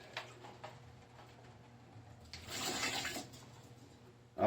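Water sloshing and splashing as a gold panning bucket is rinsed out during a cleanup, a soft wash that swells in the middle and ends with a sudden louder splash.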